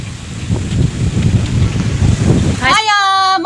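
Strong wind blowing outdoors, loud buffeting rush against the microphone for most of the stretch before it cuts off into a short tonal sound.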